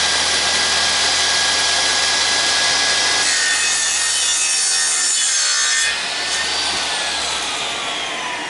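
A radial arm drop saw cuts through a piece of wood, a loud continuous high whine of the spinning blade biting into the timber, easing slightly as the cut finishes and the motor runs on alone.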